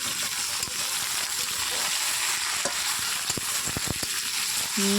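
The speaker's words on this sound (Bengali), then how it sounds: "এবার আমি নাড়তে হবে এটাকে নাড়তে হবে ভালো করে" Poultry meat frying in oil while being stirred for a curry, a dense continuous sizzle with a few sharp knocks of the spoon against the pan, close and steady.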